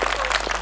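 Applause from a live audience at a Hindi comedy poetry stage show, a dense, steady wash of clapping that fills the whole moment without any talk over it.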